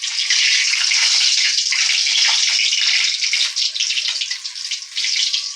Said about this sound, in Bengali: গরম হয়ে গেছে, 2টো তেজপাতা দিয়ে দিচ্ছি আর 2টো শুকনো লঙ্কা দিয়ে দিচ্ছি।